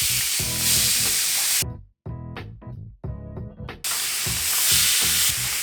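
Beef tenderloin sears in a hot cast iron pan with loud, close sizzling and crackling that drops out twice as the meat is moved, then surges back fully.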